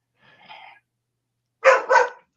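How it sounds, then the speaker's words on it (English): A dog barks twice in quick succession, loud and fairly close, after a fainter, muffled bark-like sound a moment before. "Whoops, dog barking."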